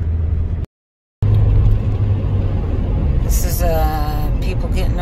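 Car driving along a road in Panama near Playa Venao, its steady engine and tire rumble filling the cabin with a dense, continuous roar, broken once by a short gap, with a voice speaking near the end.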